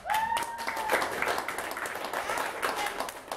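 Audience applause on a talk show, a steady wash of clapping at moderate level heard under a voice at the start.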